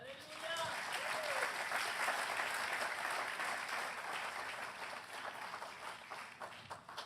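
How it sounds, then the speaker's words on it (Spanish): A church congregation breaks into sustained applause during a sermon, a dense roomful of clapping that swells quickly and holds steady, with scattered voices and cheers mixed in before it slowly tapers. "dale un aplauso"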